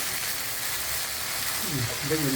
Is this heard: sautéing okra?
yes